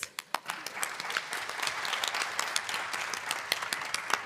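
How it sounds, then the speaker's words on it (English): Conference audience applauding women panelists at a sports community event, opening with a few sharp individual claps that swell into a sustained, moderately dense round of clapping from a mid-sized crowd. "So, big round of applause"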